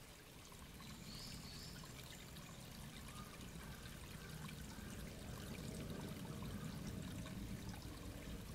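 Spring water trickles and pours steadily from a riverside cliff at the Mirror Spring, a continuous soft splashing stream with no voices.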